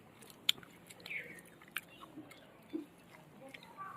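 Someone eats duck curry with new potatoes, gravy and chit ruti pitha on a cold winter day, making soft close bites and quiet chewing with small wet smacks in a hushed room.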